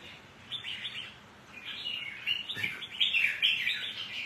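A songbird at a Quang Tri bird gathering sings a continuous bright run of high chirps and trills, close and clear over a soft background hiss.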